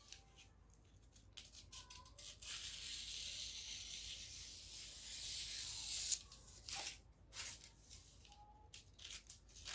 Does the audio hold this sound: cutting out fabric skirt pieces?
yes